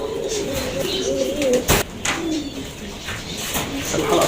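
Pigeons coo in soft, repeated low calls at close range, with a sharp rustle or flap partway through and faint background noise around them.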